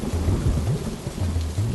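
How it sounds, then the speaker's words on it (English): A rain-soaked thunderstorm: loud, continuous low rumbling with a broad wash of pouring rain and slight swells in intensity, heard on its own without talk. "Then came the rains, showers of blessings on the earth."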